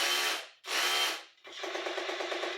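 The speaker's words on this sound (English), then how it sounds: "we're going to put it on just hammer and see what this does" A hammer drill runs on its hammer-only setting in two short bursts, then a steadier rattling run, each loud and harsh with no one speaking.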